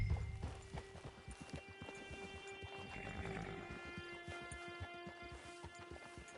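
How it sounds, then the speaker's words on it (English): Horse hooves clip-clop in a steady, walking rhythm in Red Dead Redemption Online, close and clear over a soft game ambience, with no talk. "Get your horse."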